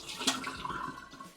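Rinse water is poured off washed kidney beans in a brief, close gush that tapers into trickling.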